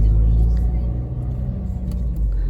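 A car drives along a road, its engine a steady low rumble close by that swells slightly at the ends, with no talk over it.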